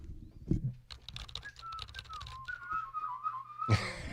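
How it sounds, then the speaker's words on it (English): A person whistles a thin, wavering tune for a few seconds, with light keyboard clicks and a couple of soft thumps nearby. "Whistling going on."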